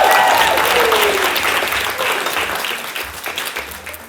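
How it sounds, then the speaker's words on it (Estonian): Loud audience applause at a dating-themed talk show taping, a steady wash of clapping that starts at full strength and slowly tapers, with a voice briefly heard over it at the start. "teeme talle suure aplausi"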